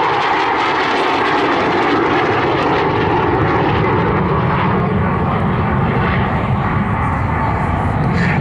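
A SAAB SK-37 Viggen jet roaring past at the Southport airshow, a loud, sustained broadband engine rumble and hiss holding steady throughout, with a faint voice commentating over it.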